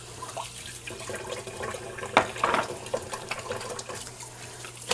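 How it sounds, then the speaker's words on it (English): Hands washed under a running kitchen tap while cooking mole, a steady close stream of water with irregular splashes and rubbing, over a constant low electrical hum. "I can wash my hands."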